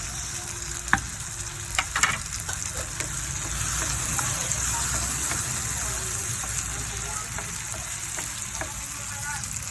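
Tomatoes and egg frying in a pan, giving a steady, close sizzle with a few clinks and stirring scrapes near the start, while someone talks over it.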